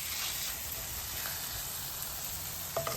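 Masala nearly done frying in oil, with oil separating at the sides of the pan, gives a steady close sizzle and hiss, joined by a faint clink near the end.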